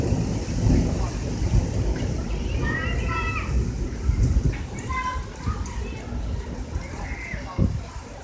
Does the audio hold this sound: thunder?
yes